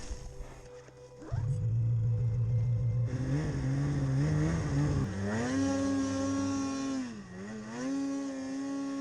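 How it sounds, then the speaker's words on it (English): A Polaris RMK snowmobile on the Axys chassis revs hard in deep mountain snow, its engine climbing and falling in pitch through several loud, close throttle surges with no talking. "So here's my first real ride on an Axys chassis Polaris. RMK."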